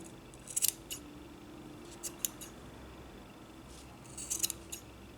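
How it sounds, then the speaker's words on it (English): Scissors snip through the yarn loops of a crochet tassel in a quiet room, with a few soft, crisp cuts clustered near the start and again near the end. "Now I'm going to take the tassel out of the hairpin and I'm going to cut the loops"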